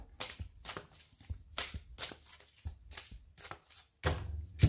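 A deck of oracle cards shuffled by hand in repeated quick riffling bursts, about nine crisp papery flutters close to the microphone, with a louder handling rustle at the end and no talking.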